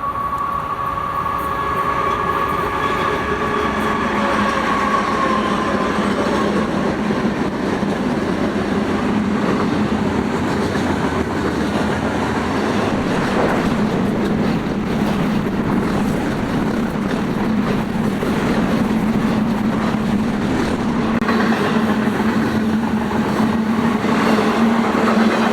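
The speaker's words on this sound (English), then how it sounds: "Our next train would be another BNSF westbound intermodal, this time being quite short" Short BNSF westbound intermodal freight train rolling past, a steady loud rumble of wheels and railcars with a faint squeal early on and a low droning tone building toward the end, continuous throughout.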